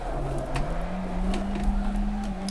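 A car drifting around a corner on a track, its steady engine drone holding a rising, sustained pitch, close and continuous with faint tyre noise, no talk.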